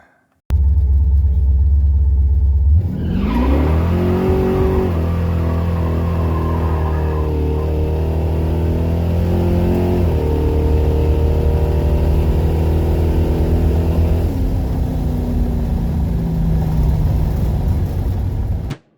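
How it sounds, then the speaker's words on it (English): A 1967 Pontiac Firebird engine rumbles loud and close, with its pitch climbing and falling through several revs over a deep idle. It runs continuously with no voices. "that's a 1967 Firebird"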